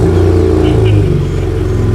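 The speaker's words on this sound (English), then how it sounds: "there is also a couple of different exhaust notes" Ford Ranger Raptor exhaust revving steadily, a loud, close, continuous engine drone with rising and falling pitch and no voices over it.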